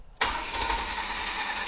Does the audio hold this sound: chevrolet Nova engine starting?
yes